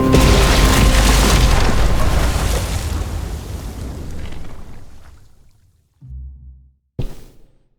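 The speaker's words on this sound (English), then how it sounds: "Shit, the bomb!" A bomb goes off in The Walking Dead video game, a loud, deep boom that rumbles and slowly decays over several seconds, followed by near silence and then two short, dull thumps.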